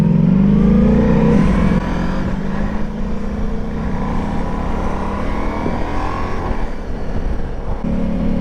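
Ducati Multistrada motorcycle engine heard while riding, a loud steady drone with a strong low rumble that eases slightly after the first couple of seconds and holds on continuously.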